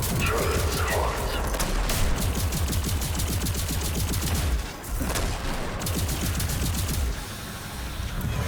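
Turret gunfire in a video game, sustained loud rapid automatic bursts with a brief pause midway, close and dominant, with a voice speaking over it.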